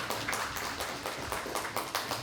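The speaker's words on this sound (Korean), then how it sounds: "주관우 형제 박수 한번 부탁드립니다" A church audience applauds a young North Korean speaker after his testimony at a worship service, a steady wash of many hands clapping with small rhythmic swells, fairly quiet and continuous throughout.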